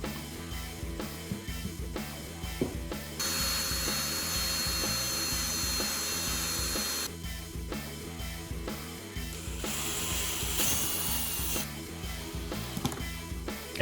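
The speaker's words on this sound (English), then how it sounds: "use my bit, drill it in" A power drill drives screws into rails to mount a filter, whirring in several sustained bursts with short pauses between, close and moderately loud.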